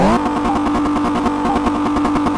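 A modified Ford RTR Mustang revs in Car Mechanic Simulator 2018 on a speed track, its engine note loud and sustained, rising briefly at the start and then holding a steady, buzzy roar.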